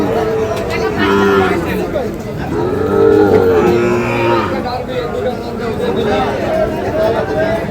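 Sahiwal calves and cattle at the Ambari livestock market moo and low repeatedly, close by, amid a steady background of crowd chatter and people talking.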